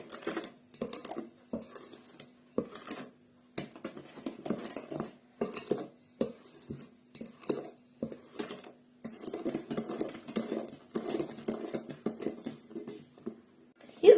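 A spoon stirs cookie batter for marble cookies in a bowl, producing irregular bursts of clinking and scraping against the bowl, with short pauses between strokes.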